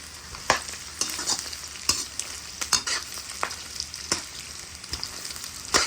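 Pig intestines, meat and fat fry in a pan with a steady sizzle, punctuated by sharp scraping stirs of the utensil at irregular intervals, close and fairly quiet with no talk.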